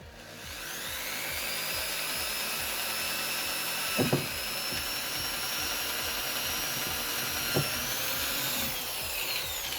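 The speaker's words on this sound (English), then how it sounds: "And drill. Go nice and slow." A steady power drill whirs continuously at a constant pitch while boring slowly into plastic pipe, with a couple of brief knocks partway through as the bit works into the material.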